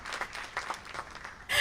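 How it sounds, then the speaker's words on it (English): A short burst of applause sound effect, played as a mistaken button press during a cozy game stream, rising at the start, then cutting off before a louder final swell. "I didn't mean to give you an applause"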